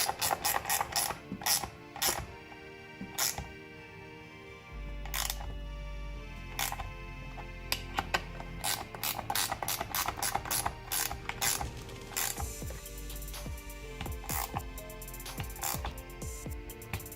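A ratchet wrench tightening bolts on a power pole gives rapid bursts of sharp clicking pawl ticks, close and crisp, in irregular runs separated by short pauses and a low hum.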